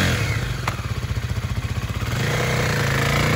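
Kawasaki KLX300 supermoto motorcycle, 2021 demo model, idling close by with a fast, even engine pulse that rises slightly midway, plus a brief metallic click near the start.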